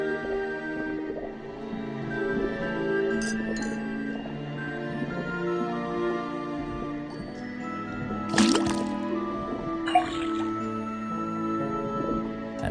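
A faucet in the Detective Grimoire video game drips liquid into a cauldron, with a few soft drips and a brief splashy burst over a quiet musical background, no voices.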